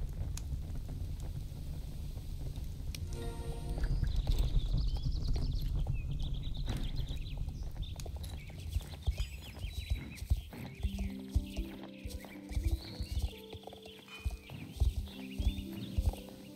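Horse hooves clip-clop in Star Stable Online, a steady rhythmic trot of sharp taps that grows clearer over the last few seconds against a soft game backdrop.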